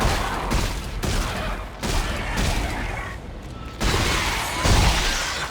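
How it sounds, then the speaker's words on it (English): Rapid gunfire from a weapon in the video game Dead Space 3 rattles out in several dense, loud bursts separated by short breaks, with a clattering, crackling texture throughout. "I promise you, I'm firing as fast as I can, but the fire rate right now on this thing is not that good"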